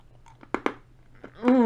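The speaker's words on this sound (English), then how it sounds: "This is so delicious, this candy right here. It's crunchy." Homemade watermelon-flavored stained glass candy made with snow cone syrup crunches close to the mic in a few quick, crisp bites, followed by the start of a voice.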